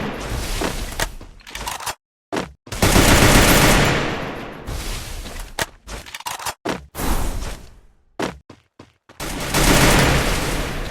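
Gunfire from the Free Fire battle game, with SCAR, M7 and Desert Eagle weapons, in loud sustained bursts of rapid automatic shots broken by short silent gaps.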